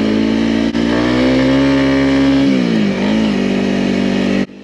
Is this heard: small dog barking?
no